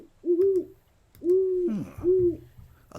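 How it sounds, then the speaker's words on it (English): Three long, low owl hoots from the Colossal Cave adventure game, each a steady mellow call with a slight rise and fall, separated by short pauses and heard clear and alone. "A large owl seems to be watching you."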